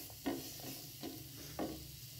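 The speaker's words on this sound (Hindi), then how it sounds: "प्याज हो गए हमारे पास हल्के से फ्राई में" Finely chopped onions frying lightly in a pan, a faint low sizzle with three distinct stirring scrapes at a steady pace.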